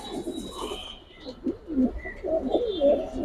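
Giribaj high-flyer pigeons coo close by in soft, repeated throaty rolls, several overlapping calls rising and falling with faint chirps mixed in.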